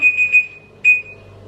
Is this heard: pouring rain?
no